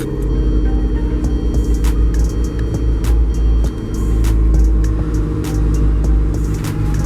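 Car engine running with an onboard air compressor switched on, a loud steady low drone and whine with sharp clicking ticks scattered throughout, one brief dip midway, continuous and close with no talk.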